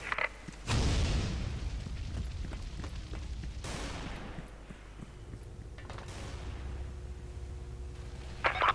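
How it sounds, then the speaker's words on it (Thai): A loud burst at the start followed by rumbling, crackling booms and rapid AK-104 gunfire blasts in the game Special Force 2, with several sharp explosive hits spread across the clip. "ระเบิด"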